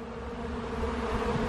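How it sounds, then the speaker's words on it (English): Honey bees buzzing at an opened hive during a frame inspection, a steady close drone of many wings with a low hum, no speech. "Busy bees."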